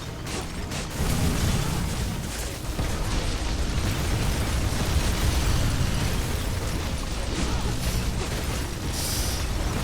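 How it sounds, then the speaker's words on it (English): Big bomb blasts in God of War: Sons of Sparta rumble almost continuously as a loud, dense roar with repeated bursts, and no talk is heard over it. "Big bombs."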